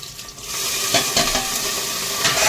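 Dry spices and amchur are stirred in a sizzling pan with a splash of water, a loud hiss of frying broken by several scraping strokes of a spoon, with no talk.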